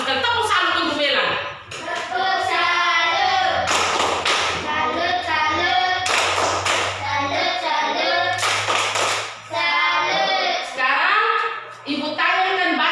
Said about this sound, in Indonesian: Tepuk salut untuk Melan